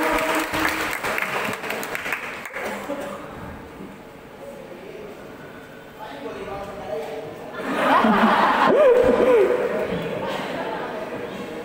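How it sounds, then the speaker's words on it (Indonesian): An audience at a church fellowship gathering claps for the stand-up comedian Bang Mongol, with scattered chuckles and someone speaking over it, and the clapping swells again toward the end. "Tepuk tangan sekali lagi buat Bang Mongol"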